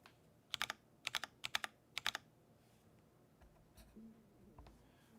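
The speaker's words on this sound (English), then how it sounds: "This is a Seal80 with an aluminum plate and MX2A oranges with GMK keycaps." Typing on a Seal80 custom mechanical keyboard with an aluminum plate, MX2A orange switches and GMK keycaps: three quick bursts of crisp, close clacks in the first two seconds, then a few scattered single keystrokes over a quiet room.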